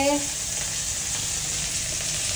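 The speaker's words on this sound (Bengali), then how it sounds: "তাই ভাজা করছি ঢ্যাঁড়স কটা" Sliced okra frying in a pan in a home kitchen, giving off a dense, even hiss of sizzling oil that runs unbroken and fairly loud from start to finish, with a brief voice at the very start.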